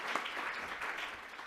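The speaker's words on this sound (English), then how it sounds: "Let's also give a round of applause for that." Faint, distant applause from the audience at an early childhood summit in Mechanics Hall, Worcester, a soft steady wash of many hands clapping with no voices.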